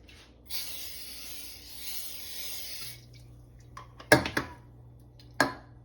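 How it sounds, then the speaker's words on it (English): A can of cooking spray hisses steadily for a couple of seconds in a home kitchen, followed by a few sharp clinks of dishes and utensils, with no voices. "Now we're going to put the spray on."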